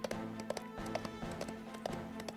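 Horse hooves clatter in a steady rapid clip-clop gallop in the visual-novel game Ikemen Sengoku, quiet and mixed with game music underneath.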